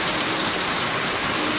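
Heavy rain pours down steadily in a storm, a dense, continuous hiss of water hitting surfaces close by with no breaks and no voices.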